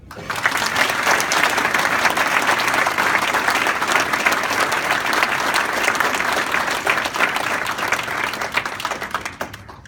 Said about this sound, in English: Please join me in giving a round of applause